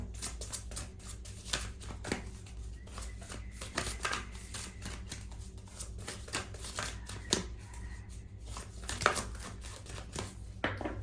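Tarot cards are shuffled and drawn with a steady run of quick flicks, riffles and soft slaps, close up and fairly clear against quiet room tone, with no voice heard.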